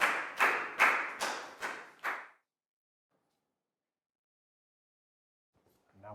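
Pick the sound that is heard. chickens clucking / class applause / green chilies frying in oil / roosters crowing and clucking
class applause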